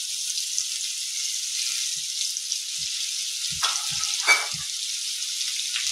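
Crushed garlic dropped into hot oil for tempering gives a steady bright sizzle, with a few soft clicks and a brief splash of movement in the pan.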